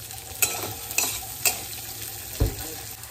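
Carrots for fried rice being stirred in a hot pan: constant frying sizzle punctuated by four distinct scraping strokes of a spatula, close and moderately loud.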